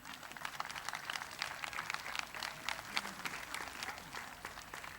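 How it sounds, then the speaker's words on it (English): An audience claps at a Samoan fiafia show by a Hawaii-based Chiefs group, with steady, dense applause that stays fairly faint and distant for the whole stretch. "clap if you feel like it"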